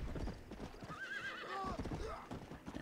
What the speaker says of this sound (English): Riding my horse through the desert.